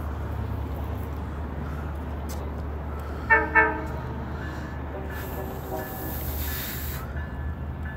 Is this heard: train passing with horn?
yes